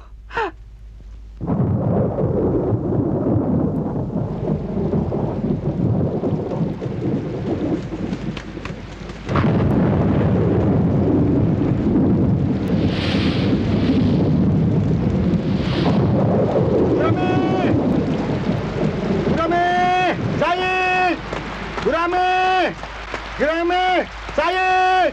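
Heavy rain pours in a thunderstorm with a loud, steady wash of noise and rumbling gusts, while people shout excitedly over it in a film scene and chirping calls sound near the end.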